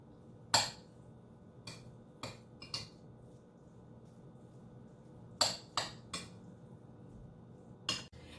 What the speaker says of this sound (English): You're going to mix the spinach to fully incorporate it with the rice.